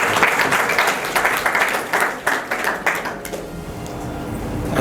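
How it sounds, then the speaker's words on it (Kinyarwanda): An audience applauds at an official launch event with a burst of clapping that gradually thins out and fades, heard clearly and without speech. "ubanze mukomera amashyi"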